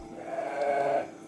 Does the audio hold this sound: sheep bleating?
yes